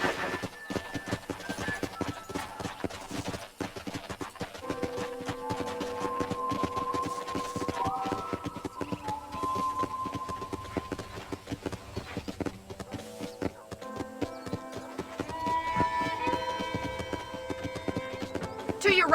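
Horse hooves clop steadily at a trot in Red Dead Redemption, under light background music, fairly quiet and continuous throughout.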